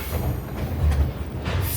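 A passenger train rolls along the rails near New Hope, giving off a steady, close rumble with soft rhythmic swells and no talking.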